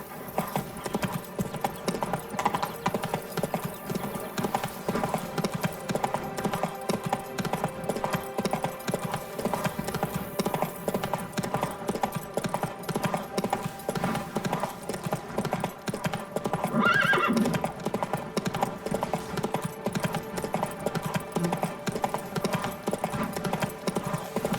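Hooves of the horse Roach clip-clop steadily in the fantasy game The Witcher 3: Blood and Wine, a continuous close trotting rhythm with an occasional whinny and faint background ambience.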